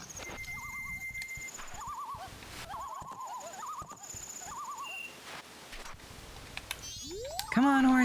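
Horse neighs in the video game Majora's Mask, several short warbling whinnies over game background ambience, ending in a louder rising whinny.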